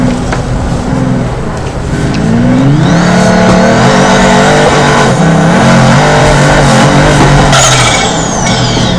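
A Pagani supercar engine revs and accelerates in the BeamNG.drive driving game, a loud rising whine climbing through gears with brief tire squeal, close and dominant with no speech over it.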